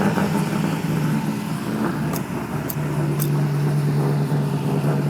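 A 2002 Pontiac Trans Am WS6 V8 pulling steadily under acceleration from inside the car, a loud, throaty, slightly scratchy drone that holds a steady pitch and rises a little toward the end.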